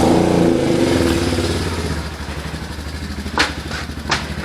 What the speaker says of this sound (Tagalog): pag magmamaniobra ko ng motor